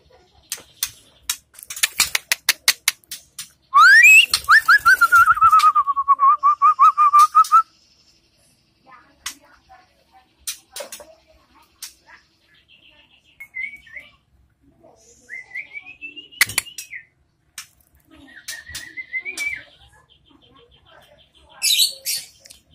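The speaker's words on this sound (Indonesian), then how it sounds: "Ini murai semua teman-teman." Murai batu (white-rumped shama) birds of the Aceh type sing in loud, clear bursts of whistles, rising sweeps and sharp chirps, separated by quiet pauses, close to the microphone.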